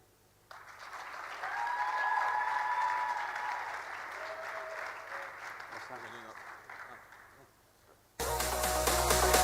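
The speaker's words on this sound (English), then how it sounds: "Please, big applause now." An audience at a university stage presentation event breaks into sustained applause, a dense wash of clapping that swells, holds and slowly fades, with a second burst of louder clapping rising near the end.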